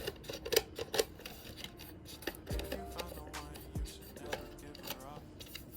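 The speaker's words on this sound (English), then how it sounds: "let's see if I can just cut this with some scissors" Sharp industrial scissors snipping through a tube, a few close crisp cuts and rubbing scrapes, faint and intermittent, with a short low tonal hum in the middle.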